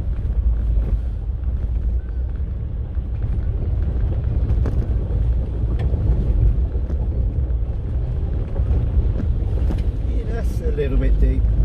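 A four-wheel-drive vehicle plows through a big, deep puddle on a track, with a steady rumble and wash of water and wind buffeting the microphone, and splashing builds toward the end.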